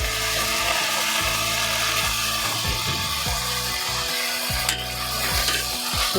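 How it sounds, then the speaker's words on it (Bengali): Prawn shells stir-fried with green chilli and coriander leaves in a pan, a steady loud sizzle with repeated scraping strokes of the spatula and no talk. "দিয়ে ভালো করে মিশিয়ে আমি এটাকে পুরো ভাজা ভাজা করে নেব।"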